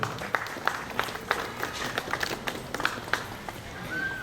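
A crowd claps to welcome a guest at a school ceremony for the Viksit Bharat Sankalp Yatra at Tarsamiya primary school in Bhavnagar, a steady patter of applause with scattered sharper claps.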